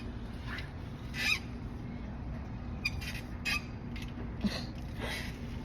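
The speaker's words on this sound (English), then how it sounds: "That squeaking you hear is a freaking chair." An outdoor chair squeaks in short creaking bursts, several scattered irregular squeals over a steady background hum, fairly close and with no talk.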